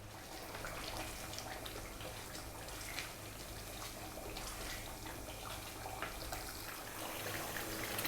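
Water boils in a pot on a gas stove for Ethiopian siga firfir, giving a faint, steady bubbling and rushing sound throughout with no talk over it.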